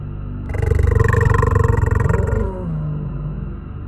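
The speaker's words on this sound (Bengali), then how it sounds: "ওই দেখো বাঘ ডাকছে" A cartoon tiger of the Sundarbans gives one loud, close roar with a rough, pulsing growl that swells and then fades into a lower rumble.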